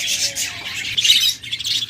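A pair of rainbow budgerigars chirps and squawks in a rapid, busy run of high calls, near and steady, with no one talking.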